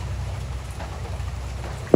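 Rain falls steadily on an island in Siargao, where it is gathered as the household water supply, giving a soft continuous patter over a low rumble that ends with a brief sharp knock.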